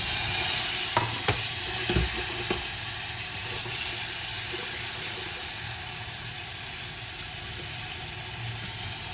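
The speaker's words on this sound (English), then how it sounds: "add tomato to the pan" Tomato added to a hot frying pan with scallions, giving a steady, close sizzling hiss with a few sharp stirring clicks and scrapes near the start, then a continuous sizzle with no talking.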